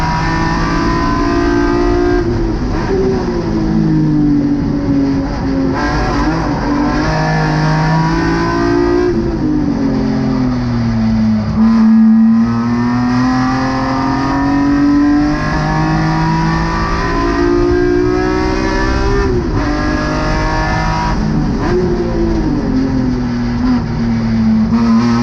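Race cars at Gingerman Raceway drone loudly and steadily, engine pitch rising and falling through gear changes as they run laps, close and continuous with no talk.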